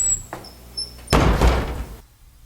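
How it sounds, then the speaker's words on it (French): A door swings shut with a solid, heavy thud that rings briefly and then fades, preceded by faint small knocks and followed by near silence. "La porte vient de se fermer."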